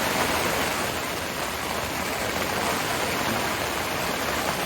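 Torrential rain and high wind batter an Ozark 3-person dome tent, making a steady, dense, loud hiss of drumming water and rushing air that stays even throughout, with no voices.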